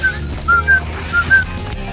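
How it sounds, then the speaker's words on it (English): Whistling in the video game Spyro Reignited: a run of short, clear whistled notes in a rising-and-falling pattern over steady game music. "Every time I hear that whistling noise, it reminds me of Rayman."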